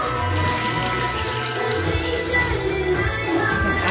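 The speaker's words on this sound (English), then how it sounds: "So we're gonna drain our rice." Cooking water from boiled rice pours steadily into a kitchen sink, a continuous rushing splash heard close and alone for several seconds.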